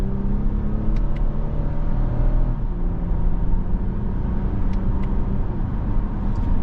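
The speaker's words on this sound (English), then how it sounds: "We're going to ease in the gas, put it into sport because we do have a new engine" A 2024 Toyota Camry XSE V6 in sport mode pulls away under throttle, its engine a steady loud rumble that climbs through the revs and drops briefly at a manual shift, heard from inside the cabin with no talk.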